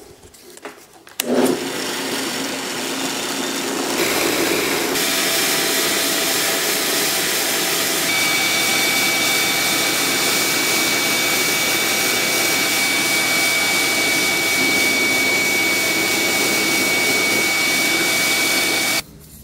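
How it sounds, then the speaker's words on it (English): A power drill whines steadily and loudly for most of the clip after starting abruptly, boring down the center of a cedar wood piece for dowel holes, with a constant high-pitched motor drone. "I will drill down the center,"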